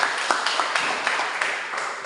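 Students in a classroom clap their hands together, a steady run of overlapping claps close by that carries on without a break and no voices over it.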